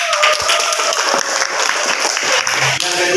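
Applause from a classroom of students for group 4 after a presentation, a steady wash of clapping filling the whole moment, with faint voices mixed in.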